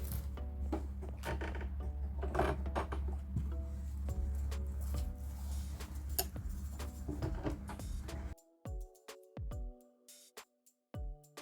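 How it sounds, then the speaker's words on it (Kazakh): A sewing machine runs a zigzag stitch along a pillowcase, a fast, steady mechanical clatter with rhythmic needle ticks, then it stops and gives a few short, separate bursts of stitching. "жай зигзагпен тігіп аламын қазір."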